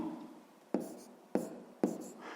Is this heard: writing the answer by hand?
yes